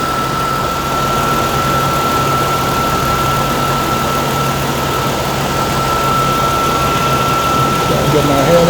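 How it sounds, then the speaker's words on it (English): A car engine idles with a steady low rumble while a drive-belt pulley squeals, holding one thin, continuous, fairly loud tone over the engine noise for the whole stretch. "Now you notice how that pitch of that squeal changes."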